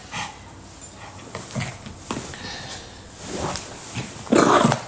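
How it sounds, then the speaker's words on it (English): A dog makes short, scattered barks and whimpering yelps in a room, some close and loud, with a louder burst near the end. "Now my dog wanna play"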